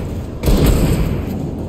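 A loud, booming gunshot in the video game Alan Wake Remastered bursts out over a rumbling background, its low blast ringing out briefly before fading.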